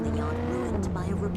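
A car in the video game Gangstar Vegas drives fast with a steady, droning engine note that shifts slightly in pitch, heard briefly beneath someone talking.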